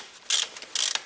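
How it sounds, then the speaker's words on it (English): Socket wrench ratcheting on a 10 mm bolt on a Toyota Corolla engine, two short bursts of close, crisp clicking separated by a brief pause. "now I need 10 millimeter socket, and I open this bolt in here"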